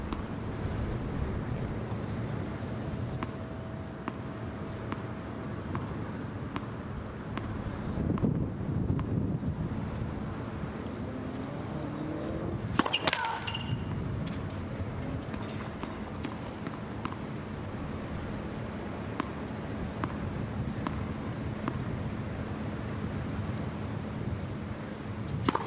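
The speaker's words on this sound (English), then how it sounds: "that's where the wind is a huge factor here in Hobart. It can swirl, it can gust, it can change direction suddenly" Gusting seaside wind buffeting a microphone at an outdoor tennis court in Hobart, a steady rushing roar with irregular swells and a sharp gust-like burst midway.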